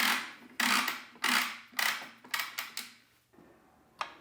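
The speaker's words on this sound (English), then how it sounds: "Once you push it back up, it locks itself back into place." Makita 10-inch miter saw being pushed back up and locking into place, a series of close mechanical clunks and rattles with decaying tails, followed by a final sharp click.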